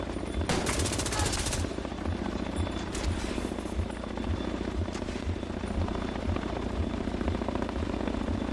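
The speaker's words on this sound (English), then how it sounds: "The fact that I hear a helicopter" Steady rotor chop of a helicopter in The Division 2, a loud continuous rhythmic thumping with bursts of machine-gun fire in the first seconds, all within dense game combat noise.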